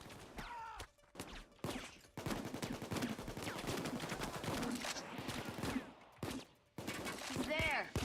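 Sustained video game gunfire rattles almost continuously with brief breaks, loud bursts under someone talking.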